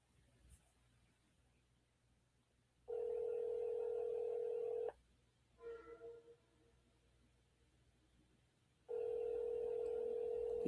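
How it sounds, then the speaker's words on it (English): A phone line rings twice: two long, steady electronic ring tones separated by a silent pause, with a brief faint sound between them. "It's ringing."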